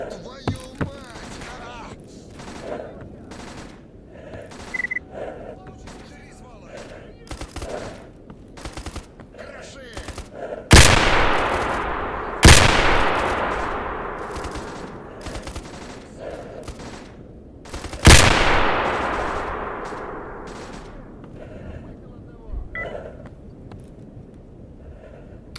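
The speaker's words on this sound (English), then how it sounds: "Why are you shooting at me?" Bandit gunfire in S.T.A.L.K.E.R. Anomaly: bursts of rapid shots crackle throughout, with three loud, close booming volleys standing out and ringing off, and scattered fainter shots between them.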